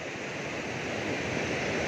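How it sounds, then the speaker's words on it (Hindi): Canal water rushing forcefully through an irrigation channel near Mianwali, a steady dense roar of flowing water close by with no voices. "ये देख रहे हैं जी पानी का जोशो खरोश"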